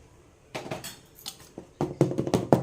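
A metal tin is handled and tapped after dhokla batter is poured in: a run of sharp metallic clinks and knocks, close and fairly quiet, quickening toward the end.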